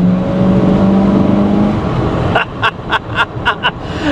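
A 1984 Chevy C20 truck engine misfires while accelerating: a loud, close engine drone gives way to a run of sharp, uneven bursts and stumbles as the throttle opens.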